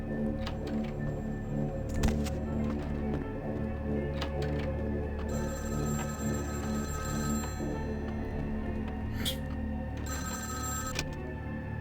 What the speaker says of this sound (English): Oh, I hear another phone.